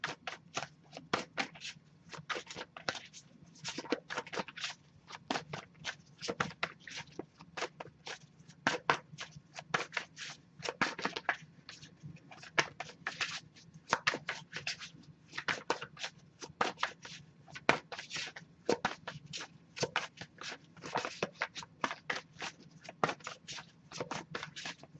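Tarot cards being shuffled by hand nearby, a long run of rapid crisp riffles and flicks repeating over and over, with no talking.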